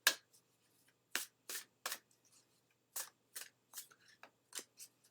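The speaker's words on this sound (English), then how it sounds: "So Cheryl, let's pull a card for you." Oracle cards are shuffled and pulled in a series of sharp, close riffling snaps and brushes, irregularly spaced, with quiet gaps between them.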